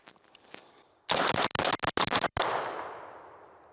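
An ATI S60 AK-47 rifle fires the rest of its magazine: a loud, close burst of rapid shots broken by brief gaps, then a ringing decay. No one speaks.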